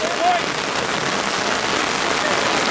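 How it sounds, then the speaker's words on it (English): Rain falls steadily on a soccer field during a high school boys' varsity game, a dense even hiss with a brief whistle near the start. "Rain is coming down."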